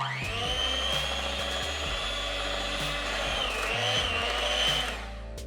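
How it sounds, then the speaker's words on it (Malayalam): A blender whirs through sponge cake batter mixed with banana, a close, loud motor whine that shifts pitch a few times before cutting off near the end. "അപ്പോൾ നമ്മൾ ആ മിക്സ് ഒന്ന് നല്ല രീതിയിൽ ബ്ലെൻഡ് ചെയ്തെടുത്തിട്ടുണ്ട്"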